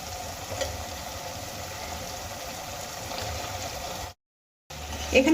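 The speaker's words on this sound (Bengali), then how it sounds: "এবার আলুগুলোকেও মশলার সঙ্গে ভালো করে কষিয়ে নেব।" Boiled potato pieces frying with spice paste in oil in a pan, giving a steady close sizzle throughout with a brief break of silence near the end, then the frying resumes with a few louder spatters.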